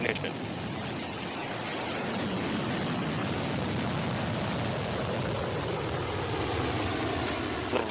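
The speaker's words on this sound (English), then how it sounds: "New Shepard has cleared the tower and is heading to space." A Blue Origin New Shepard rocket rumbles through ignition and liftoff from Texas in a steady, broad roar. A voice speaks over the rumble.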